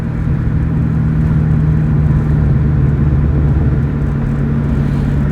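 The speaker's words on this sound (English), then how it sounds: "It does sound good at a low, smooth takeoff, though." A Terminator Cobra with a raspy exhaust pulls away in a low, smooth takeoff, its engine a steady, loud rumbling drone with a strong low hum that holds throughout, close and alone with no talk.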